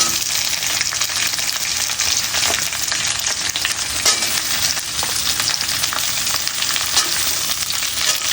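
Onion frying in a pan gives a loud, steady, dense sizzle that holds unbroken throughout, with faint stirring scrapes and no voices.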